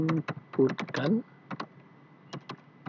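Computer keyboard keys being typed in short bursts of clustered clicks, loud at first, then sparser single taps spread across the few seconds, close by.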